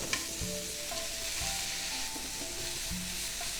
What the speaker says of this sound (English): As I cook the veggies, I'm gonna cook also some meat.